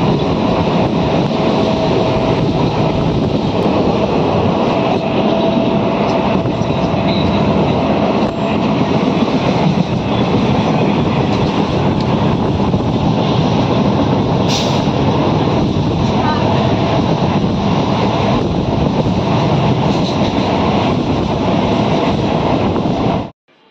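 A Shantipur local passenger train running toward Ranaghat, heard from inside as a loud, continuous roar of wheels and carriage rattle with occasional clatter, lasting over twenty seconds before cutting off abruptly.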